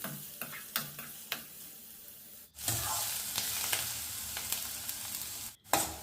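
Onions and a bay leaf sizzle steadily in hot oil in a pan, with a few stirring clicks early on, then a loud continuous fry that briefly drops out near the end.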